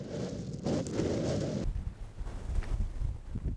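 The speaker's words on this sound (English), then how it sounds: "but it is quite windy and cloudy today." Gusty wind buffets the microphone outdoors on Gozo, Malta, a rough low rumble that surges and shifts, with no voices.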